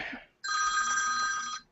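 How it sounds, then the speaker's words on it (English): A telephone bell rings in one steady, bright burst lasting about a second, close and loud, after a brief moment of a voice. "My phone's ringing."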